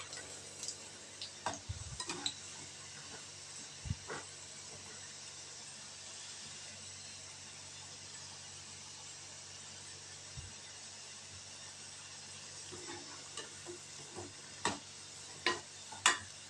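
Mint cashew pakoda frying in a pan of oil, giving a faint, steady sizzle with scattered soft ticks and pops that grow busier toward the end.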